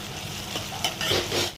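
Green chillies and onion frying in a pan with a steady, close hiss and sizzle, with a few faint stirring scrapes over the top.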